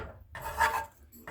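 A spoon scrapes and rubs around a pot of French onion soup seasoned with black pepper, a short close stir of a few scraping strokes with no talking.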